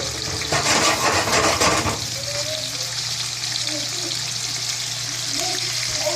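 Garlic shrimp sizzle in olive oil and butter in a pan, a loud bubbling hiss with a scraping burst as they are flipped early on, then a steady frying crackle.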